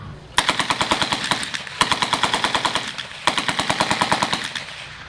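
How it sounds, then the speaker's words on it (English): World War II Browning 1919 A4 air-cooled light machine gun firing three sharp, loud bursts of rapid automatic shots outdoors, each burst roughly a second and a half long with short pauses between. "The 1919 A4 Browning air-cooled light machine gun."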